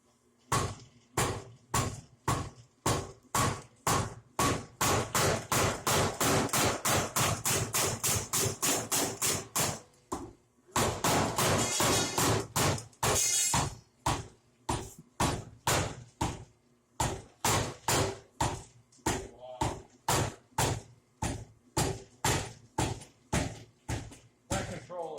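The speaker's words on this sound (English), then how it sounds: "we got the power hammer unloaded into its new home," A Pro-Series power hammer pounds in rapid rhythmic blows, speeding into dense runs, pausing briefly near the middle, then resuming with irregular strikes; loud and close in a workshop.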